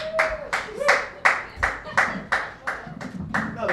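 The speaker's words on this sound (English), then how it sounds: "Another round of applause for Mr. Matt Larson." Clapping at a comedy show in a dive bar, heard as a rhythmic series of about a dozen loud, evenly spaced claps in a steady beat, close by, with a faint voice underneath.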